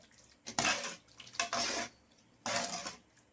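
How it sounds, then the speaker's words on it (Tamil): Three bursts of sloshing, splashing water as tamarind water is stirred and swished in a bowl, with brief pauses between them. "நல்லா கட்டி இல்லாமல் கலந்துக்கலாம்."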